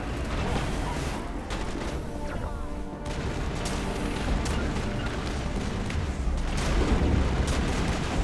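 Sustained combat noise from a Shepard shooter game on Insanity difficulty, with gunshots and booming impacts over a dense rumbling bed, moderately loud, with a voice faintly present.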